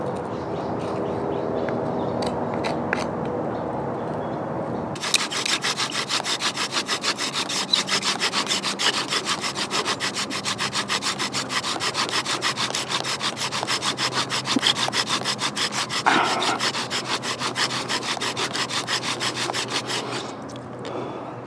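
A wooden bow drill spindle burns in against a fireboard outdoors in the wild. After a quieter start, a fast, even back-and-forth rubbing and sawing rasp runs steadily for over fifteen seconds, up close, with no talking.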